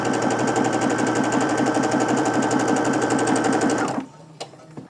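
A sewing machine chain-pieces fabric triangles in a fast, steady stitching whir for about four seconds, close and clear, then stops abruptly, leaving only faint handling noise.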